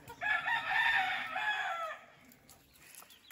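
A white Kelso gamefowl rooster, ten months old, crows once nearby in a breeding yard. It is a loud drawn-out call that fades after about two seconds into quiet farmyard background.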